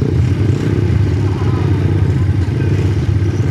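A motorcycle engine running close by, loud and steady with a low rumbling idle that holds without clear revving, recorded at an ATV and motorbike riding outing in forest country near Lenggong.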